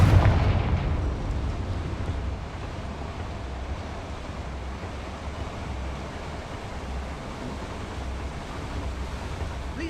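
A Confringo fire spell explodes in the video game Hogwarts Legacy: a loud booming blast at the start fades into a steady rumbling roar that continues for several seconds, with no voices.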